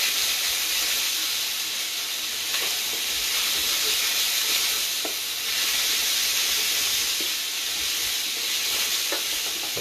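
Minced beef frying in a pan for a beef and onion pie, a steady, close hiss of sizzling fat that runs unbroken the whole time, with faint stirring clicks now and then and no voices.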